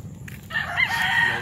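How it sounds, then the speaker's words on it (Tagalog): A rooster crows at sunrise in a coastal fishing area of Bataan, a single drawn-out crow rising over a low background hum, moderately distant. "tumilaok na yung manok"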